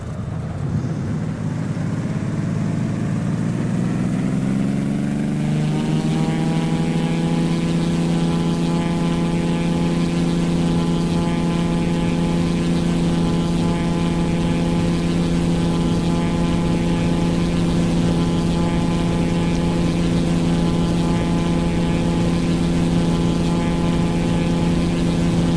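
A Cessna T210 Centurion's piston engine and propeller run up to full power on the takeoff roll, a steady loud droning roar that rises in pitch over the first seconds and then holds constant.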